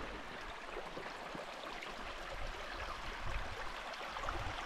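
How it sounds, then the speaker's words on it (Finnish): Small streams flow in Urho Kekkonen National Park in Finnish Lapland, giving a faint, steady trickling wash with no voices. "Tässä näitä puroja virtaa ton poroaiden jälkeen."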